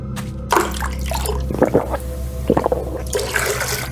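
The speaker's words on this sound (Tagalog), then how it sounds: "Inom na akong tubig." A tired traveler on foot near a stream drinks water, with liquid sloshing and dripping, and a few close, uneven gulping and splashing bursts over about four seconds.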